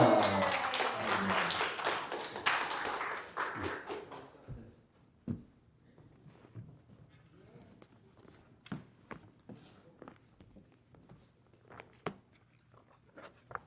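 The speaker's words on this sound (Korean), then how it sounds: "우리 박수로 하나님께 영광을 올려드리겠습니다" A church congregation claps in a brief burst of applause as the pastor comes forward, fading after a few seconds, followed by scattered footsteps, shuffling and small knocks in a quiet room.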